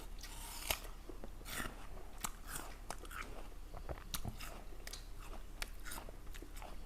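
A Pink Lady apple is bitten and chewed close to the microphone, with crisp crunches repeating irregularly over several seconds along with wet mouth sounds, quiet overall, with no one talking.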